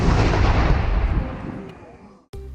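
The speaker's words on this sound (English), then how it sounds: "fire an 1860s style Civil War period cannon" An 1860s-style Civil War period cannon fires at Fort Macon, a single loud boom whose rumble rolls out and decays over about two seconds before cutting off, followed by a brief fresh burst of noise.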